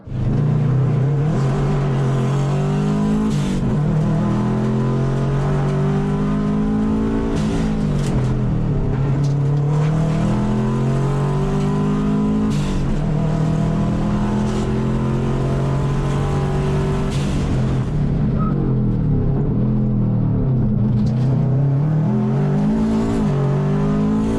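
Rally car engine on a rallysprint run, loud and close, revving up and down through repeated gear changes and surges, with occasional tyre noise throughout.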